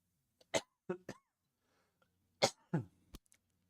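Several quiet coughs and throat-clearing bursts in close succession, near the mic, with silent gaps between them.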